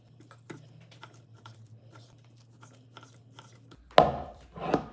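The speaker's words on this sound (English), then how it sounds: "now I'm just gonna take this and I'm gonna cube it up" A knife cuts brisket into cubes on a board, giving scattered soft taps and slices over a low hum. A louder burst of chopping and handling follows near the end.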